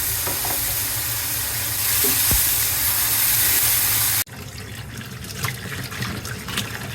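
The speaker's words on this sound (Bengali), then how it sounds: "এখন আবার কল ছেড়ে ভালো করে একটু ধুয়ে নিচ্ছি" Tap water runs steadily into a pot while small river tengra fish are rinsed after being fried with spices, a continuous splashing wash that grows louder before a sudden cut to softer clattering and trickling.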